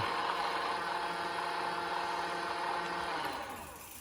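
Sondors Rockstar electric motorbike motor under throttle, a steady close whine with tonal hum that holds level and then fades slightly near the end as the throttle eases, with no talking.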